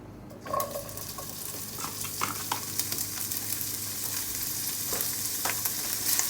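Pancetta frying in hot olive oil, a dense continuous sizzle that swells after the pieces go in, with occasional scrapes and taps of a wooden spoon stirring.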